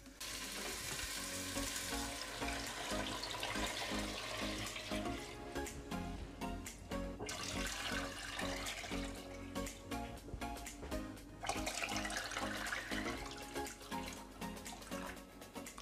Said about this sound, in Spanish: Y ahora la vamos a llenar de agua hasta casi el borde.